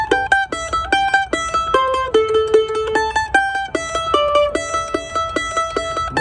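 Mandolin picked in steady sixteenth notes with alternating down and up strokes, bright and close, a continuous rapid tremolo-like stream of notes moving through a melody.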